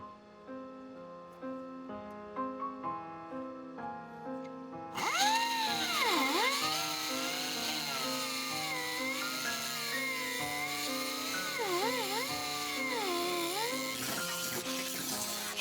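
A power tool starts cutting into a car body panel during a wagon build, a loud, sustained grinding whine that rises and dips in pitch as the blade loads up, preceded by a few seconds of quieter tonal noise.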